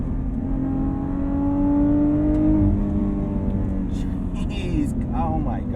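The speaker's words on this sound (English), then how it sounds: "And that supercharger whine." A 2020 Lotus Evora GT runs with a rising supercharger whine that climbs in pitch over the engine drone, heard close from inside the cabin, with someone speaking over it.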